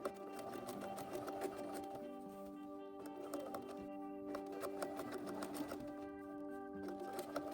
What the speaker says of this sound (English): I'm going to sew along the edge to create the casing and leave open a 2-inch gap